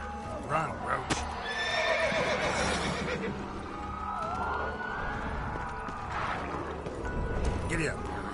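The horse Roach from The Witcher gallops with a steady clip-clop of hooves and loud whinnies, while a voice speaks over the game sounds.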